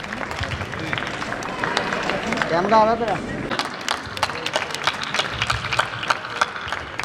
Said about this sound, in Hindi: जोरदार तालियों के साथ इन खास खूबसूरत लम्हों को और भी प्यारा बनाते हैं।